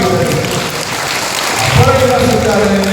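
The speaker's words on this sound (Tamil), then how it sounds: "கைதட்டுங்க." Crowd clapping at a Tamil church gathering for a saint's feast, a sustained spread of applause that swells toward the end, with a preacher's voice carrying over it.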